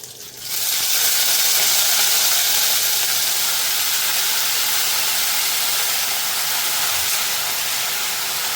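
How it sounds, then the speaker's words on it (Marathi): Washed eggplant drops into hot spiced oil with fried chillies in a pan, setting off a sudden loud sizzle that holds as a steady, close, hissing roar with no voices. "आता हे वांगे मी धुवून त्यात टाकते"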